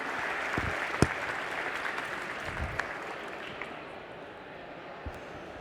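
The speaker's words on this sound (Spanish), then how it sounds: "Gracias a todos por aplaudir, qué amabilidad." Audience applause at a lecture on video games and cultural legitimacy, a steady wash of many hands clapping in a hall, moderately loud and continuous, easing off slightly toward the end.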